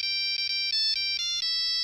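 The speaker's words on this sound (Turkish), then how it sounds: "Kapatın telefonu." A mobile phone ringtone goes off in a classroom, a loud, bright electronic melody of quick repeated tones playing alone with no talk over it.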